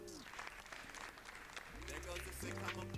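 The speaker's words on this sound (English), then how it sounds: "There goes the sitcom applause" Sitcom-style canned applause plays in a cartoon, a faint wash of clapping heard beneath a person talking over it.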